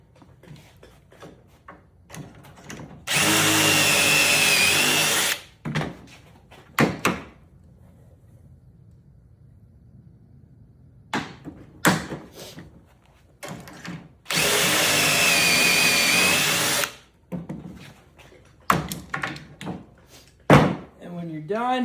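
A power drill bores pocket holes through a Bora Pro Compact pocket hole jig in two loud, sustained whining bursts, separated by clunks, knocks and handling clatter of the jig and workpiece.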